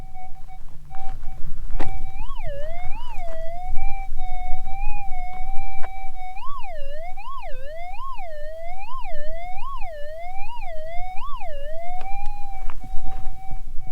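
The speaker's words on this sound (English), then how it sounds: "let's have a listen to the gold nugget first and see what gold sounds like on a monoloop coil" A steady electronic metal detector hum with a monoloop coil repeatedly bends up and warbles in pitch over a shallow gold nugget, about ten wavering swells in a row, then settles back to a flat tone.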